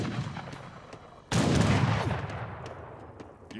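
Gunfire and artillery in Age of Empires III boom out in a sudden loud blast that slowly fades, with faint scattered shots before and after and no talk.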